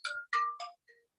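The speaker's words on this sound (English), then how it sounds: "that is the sound of a 5-minute timer" A five-minute timer alarm sounds during a public hearing, a short run of three electronic chime tones followed by a fainter fourth, with no talking over it.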